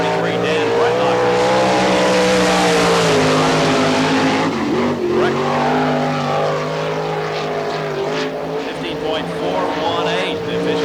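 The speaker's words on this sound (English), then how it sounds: "On the Speedway, the sprinter number 33, sprint car 33, Dan Bretnocker." A sprint car, number 33, runs a timed lap on a dirt speedway at Florida Speedweek in Barberville, its engine a loud, steady roar that rises and falls as it circles, with an announcer talking over it.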